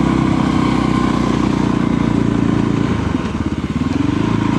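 A Voge 300 Rally motorcycle engine labours up a mountain road in third gear, a loud close steady drone with a pulsing low throb that dips and lifts near the end.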